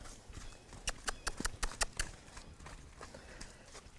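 A horse moving around a training pen, a quick cluster of sharp hoof clops on hard ground followed by softer, sparser steps.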